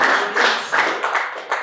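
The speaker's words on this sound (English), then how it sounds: "A round of applause for both of them." An audience at a business summit in Lagos applauds, dense clapping swelling in a few waves and then tapering off slightly.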